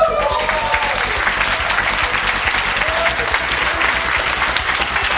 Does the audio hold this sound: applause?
yes